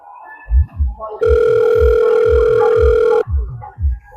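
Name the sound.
telephone call dial tone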